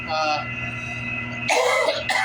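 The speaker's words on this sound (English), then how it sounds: "I've got this persistent cough" A couple of harsh, deep coughs burst out near the end, following a stretch of quieter murmuring background sound.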